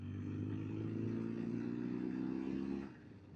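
A BMW R1200 GS motorcycle engine runs with a steady, low droning hum for nearly three seconds, then drops off sharply to a quieter idle.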